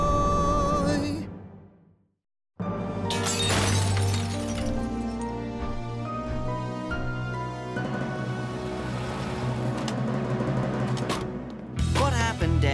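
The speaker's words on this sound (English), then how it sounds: "The glass just started shattering, the windows all came down." Cartoon glass windows shatter and crash down in a loud, dense burst of breaking and tinkling. It follows a brief silence and carries on with clattering debris over a heavy musical score.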